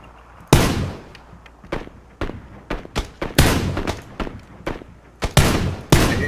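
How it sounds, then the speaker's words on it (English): PUBG gunshots crack out loud and close in an uneven series of single sharp reports, roughly a dozen over a few seconds, with no voices over them. "I hear shots west."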